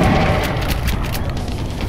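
A shotgun blast in the XCOM game, a single heavy boom that opens the moment and then decays into a loud, rumbling tail.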